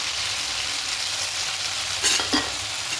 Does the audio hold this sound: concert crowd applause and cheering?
no